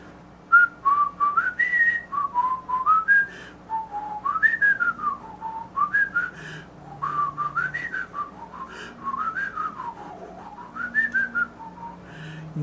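Solo whistling traces a flowing melodic air pattern from a horn etude, notes rising and falling in connected phrases with short breaths between them, close and clear with no talking.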